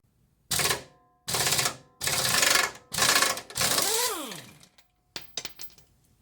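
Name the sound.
impact gun removing Jeep XJ crank pulley bolt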